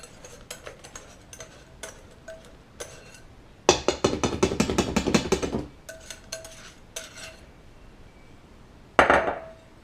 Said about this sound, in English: I'm just whisking it together with the dry ingredients.